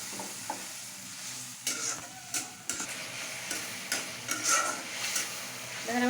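Prawns frying with spice masala in a pan, a continuous sizzle broken by repeated scraping and tapping strokes of a spatula, close and fairly loud.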